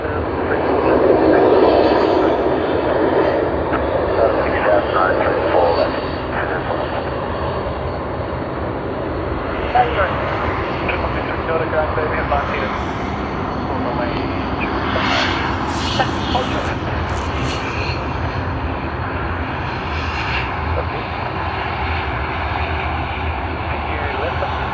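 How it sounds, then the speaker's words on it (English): A Qantas jet airliner on the Sydney to Tokyo Haneda service at Sydney Airport: steady engine roar that is strongest at the start and then eases to a lower rumble, with people talking throughout. "That is QF59 for us, Sydney to Tokyo Haneda service."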